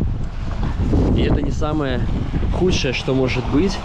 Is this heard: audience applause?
no